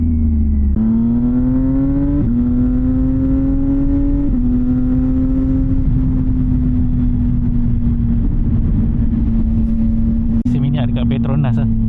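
A CFMOTO 675NK SR motorcycle with a titanium full-system exhaust runs loud and close in a long, steady drone that steps up in pitch several times, with a sharp crackle near the end.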